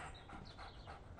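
A dog pants in quick, breathy rhythm, close up against a dense, noisy background that nearly buries it.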